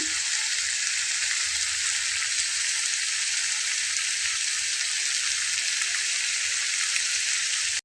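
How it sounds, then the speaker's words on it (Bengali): Spice paste sizzles and crackles steadily in a hot pan, a loud continuous hiss with no talking. "মশলাগুলো দিয়ে ভোনা করতে করতে"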